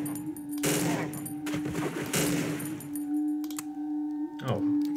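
Gunfire in the horror video game Cry of Fear, a few quick bursts of shots over a steady electronic hum, with someone talking between them.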